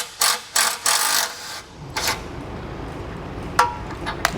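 An 18mm wrench clicks and ratchets on a bolt of a 2021 Chevrolet Colorado, several quick metallic bursts up front, then scattered sharp clinks and taps close by.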